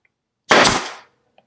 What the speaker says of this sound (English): I can shoot a few more brads just to hold it in place